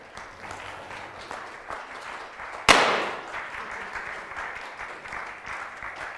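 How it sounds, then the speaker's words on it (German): An audience claps steadily at an architecture event, moderately loud. Partway through, a sharp bang from a confetti burst cuts in before the applause carries on at the same level. "Applaus und Konfetti."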